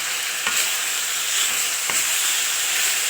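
Ingredients for a basmati rice dish with vegetables, chicken and egg sizzle in a hot pan as they are stirred with salt and pepper, giving a steady frying hiss with two faint scrapes of the utensil.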